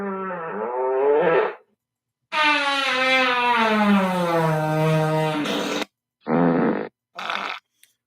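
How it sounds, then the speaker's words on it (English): A long fart sound effect plays as a loud, drawn-out, wavering blat lasting several seconds, followed by two shorter bursts after brief silences, with no talking. "he's now into the long fart file"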